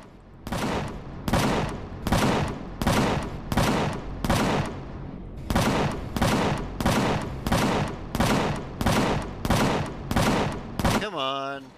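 Gunfire in Empyrion - Galactic Survival: a steady, evenly spaced series of loud heavy shots, about two per second, stopping briefly mid-way and then resuming, ending with a short burst of chattering electronic sound.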